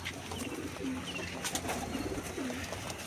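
Pigeons kept at home in pairs coo in soft, rolling bursts, several low calls repeating close by over faint background noise.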